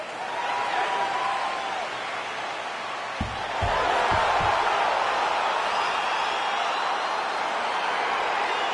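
Arena crowd roar in the UFC 4 video game before a sold-out house, a dense, steady wash of cheering noise that swells slightly midway, with a few low thumps near the start.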